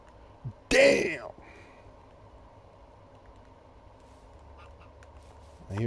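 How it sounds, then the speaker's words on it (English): In the Minecraft video game, a duck or goose gives one short, fairly loud quack near the start, followed by quiet game ambience and a faint sound at the end. "I hear a duck."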